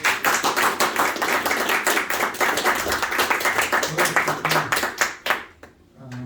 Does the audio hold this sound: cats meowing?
no